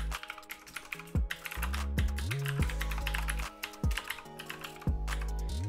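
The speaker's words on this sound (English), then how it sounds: "So I'm going to have to manually type it in." A long URL typed out on a computer keyboard during a Windows software install, giving close, quick, irregular key taps over a steady background hum.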